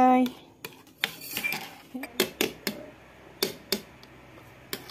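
Eggs whisked in a bowl for an omelette, a run of quick sharp clinks of a utensil against the bowl in uneven bursts, close and clear, with no voices.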